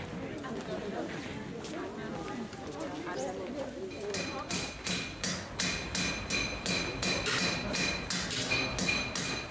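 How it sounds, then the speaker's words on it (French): Metal hammers from coppersmiths' workshops in a Turkish town bazaar ring out in a steady, fast rhythm of sharp strikes. The hammering becomes louder and more regular partway through, over a busy background of crowd chatter and hoofbeats. "Les marteaux des dinandiers résonnent encore dans le bazar de la ville"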